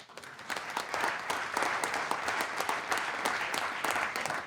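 Audience applause at a business and ecological-transition conference in a management school hall, a dense, steady crowd clapping that stays loud throughout with no voices over it.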